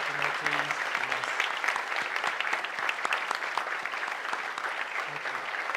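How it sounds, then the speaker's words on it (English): Steady applause fills a meeting hall as recognized members stand, a continuous even patter of many hands clapping with a brief voice at the start and little else. "give them a round of applause"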